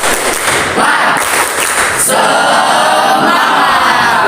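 A classroom of students does a rhythmic spirit clap, dense loud clapping with shouts and crowd noise throughout, a sharp burst near the middle.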